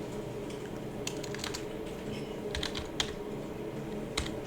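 Fingers type on a computer keyboard while entering a Cisco switch interface command. Keystrokes come close and clear in irregular bursts, some single taps and some quick runs, with no voices.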